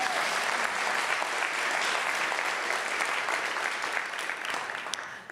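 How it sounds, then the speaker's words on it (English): A talk audience gives a speaker named EJ a steady, even round of applause that holds for several seconds and then tapers off at the end. "Let's give EJ a nice round of applause for what he's doing."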